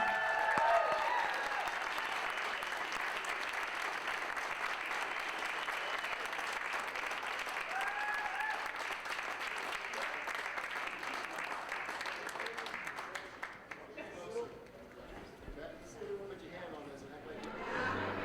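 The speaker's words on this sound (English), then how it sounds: "Give them a round of applause." Audience applause at a staff awards ceremony, steady dense clapping from a full room that carries on for about thirteen seconds, then thins and fades as a few people begin talking.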